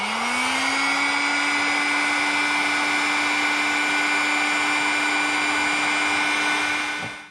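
A heat gun blowing on a motorcycle steering head bearing during an RM125 build, a loud steady whine and airflow roar that ramps up at the start, holds evenly, then cuts off.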